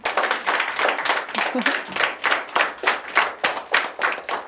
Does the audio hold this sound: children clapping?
yes